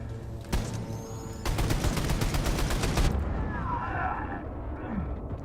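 Rapid automatic gunfire in Wolfenstein: The New Colossus, a dense burst of shots after a single crack, then a roaring blast and fading rumble, with game ambience underneath.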